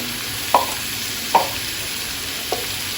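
Ground spices such as chilli, cumin, coriander and turmeric frying in a pan, with three short scraping stirs at uneven intervals over a steady low background sizzle.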